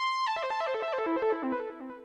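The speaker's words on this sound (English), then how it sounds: "In addition, another sawtooth." A bright, buzzy synth line with a rich harmonic tone plays a quick descending run of notes, alone and clear.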